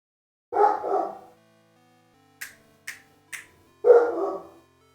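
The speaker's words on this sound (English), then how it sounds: "barking" A dog barks indoors at home: two short barks, then three sharp clicks or taps, then another double bark, each fairly close and clear against a quiet background.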